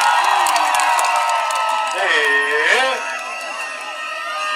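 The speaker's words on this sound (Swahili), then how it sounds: "Tumpigie makofi." A large crowd at a Kenya Kwanza political rally in Nyaribari Chache cheers and whoops loudly and continuously, with rising shouted voices in the steady roar.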